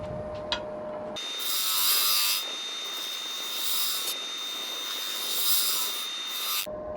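A bodger tool smooths the inside of a wooden monkey puzzle urn, a steady close scraping and rubbing that swells and eases in several long passes, with no talk.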